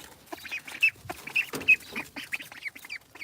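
Ducks of an unusual breed quack and chatter close by in a series of short, irregular calls, with no talking.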